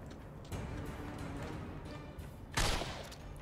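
Regular guns firing in The Darkness, a few quiet shots with a louder burst near the end over low background game noise.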